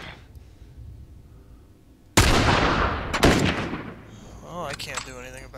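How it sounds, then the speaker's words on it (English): A sharp, loud gunshot in The Last of Us, set in a suburban area, bursts out of a quiet scene, followed by a second shot and a ringing, fading tail. "Looked like he was shooting right through the wall."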